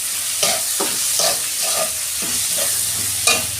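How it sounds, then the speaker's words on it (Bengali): Onion fries with salt and turmeric in a pan under a steady close sizzle, while a spatula stirs it in regular scraping strokes about twice a second, with no talking. "পেঁয়াজটা আমি ভেজে নেবো ভালো করে,"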